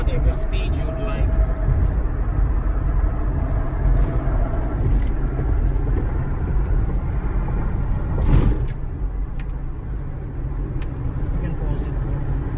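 A Nissan Xterra with a manual transmission cruises on a highway in fifth gear, giving a steady loud engine and road rumble with tire roar and passing-traffic swells throughout.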